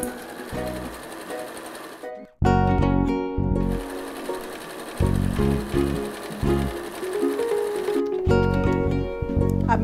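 Sewing machine stitching two quilt blocks together, loud rapid whirring bursts broken by brief pauses, running in several separate runs.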